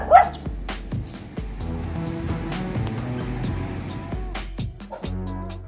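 Dog in a bird park at Rasulpur, Muktagacha, barking and yipping in short repeated bursts close by, with a few whimpering tones and light background noise, no talking.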